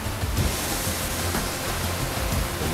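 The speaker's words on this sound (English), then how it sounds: "the Calandala Waterfalls" Calandala Waterfalls in Angola, a steady dense roar of falling water, constant and loud with no breaks.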